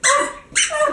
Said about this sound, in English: she can make that one squeak